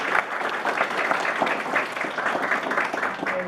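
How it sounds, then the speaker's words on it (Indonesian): Classroom applause from a group of students, steady clapping throughout with some voices mixed in. "kasih tepuk tangan"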